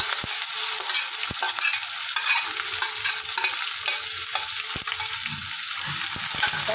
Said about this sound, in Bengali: ঠিক এই পর্যায়ে আমি দিয়ে দেবো পেঁয়াজ কুচিগুলো।